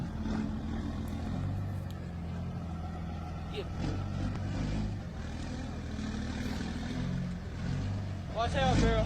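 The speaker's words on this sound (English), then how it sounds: "That's a really crazy sound for an exhaust brake." A 6.7 Cummins diesel pickup truck's exhaust brake chugs and rumbles in a low, uneven burst, fairly close, with a brief higher chirp near the end.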